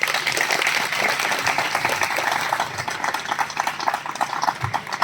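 A crowd at a legal aid ceremony claps in welcome, a dense, continuous patter of applause that thins slightly toward the end.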